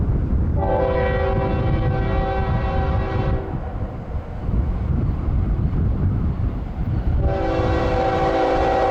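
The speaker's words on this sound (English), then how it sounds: "He's waiting for this train to clear." A CSX freight stack train rumbles past close by with a loud steady roar, its horn blasting in two long sustained blows near the start and the end.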